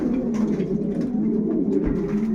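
Racing pigeons coo softly inside a loft in a low, continuous murmur of overlapping calls, heard close up with no talking.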